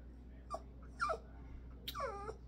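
A pet dog whimpers and whines in a quiet indoor room, several short high yelps and whines spread over a couple of seconds, close by but fairly soft, with no talking.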